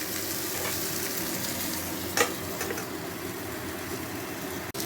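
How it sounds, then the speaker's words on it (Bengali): Eggplant and tomato fry together in oil with salt until their skins loosen. A steady, moderate crackling sizzle runs throughout, with one brief clink partway through. "দেখুন কেমন আস্তে আস্তে বেগুন টমেটো সব ভাজা ভাজা হয়ে তাদের খোসা আলগা হতে শুরু করেছে"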